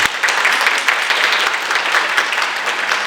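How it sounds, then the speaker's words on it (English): Loud, dense applause from a symposium audience for the keynote speaker at a women's wellness event, a continuous crowd of clapping hands sustained close and strong throughout. "can we have a big round of applause for our keynote speaker?"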